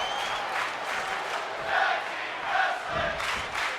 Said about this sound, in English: Tag team wrestling is the shout from the crowd.